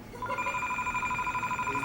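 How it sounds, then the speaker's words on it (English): A telephone rings for an incoming call, a steady pulsing electronic trill repeating rapidly and evenly, moderately loud over a faint room background, with no speech. "We have a phone call."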